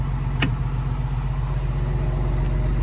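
An industrial generator engine runs at a steady, loud, low drone with a constant rumble, joined by one brief sharp click near the start.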